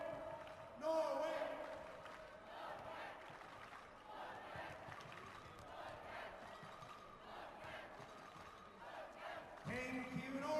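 At a Norway versus France sports match, a packed arena crowd roars and chants together for Norway, the sound swelling loudly near the start and again at the end over a steady hall din.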